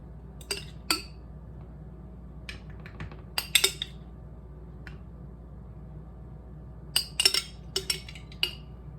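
A metal cereal spoon clinks and scrapes against a baking dish while spreading sauce over lasagna, producing scattered sharp taps in small clusters over a quiet room hum.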